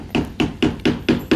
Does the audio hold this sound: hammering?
yes